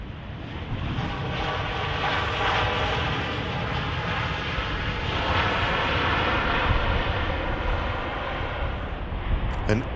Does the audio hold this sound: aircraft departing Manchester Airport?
yes